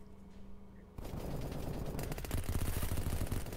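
Auto 5 shotgun firing in the online game Apocalypse Rising 2, a fast string of gunshots in dense bursts that grow louder, sounding like rapid gunfire.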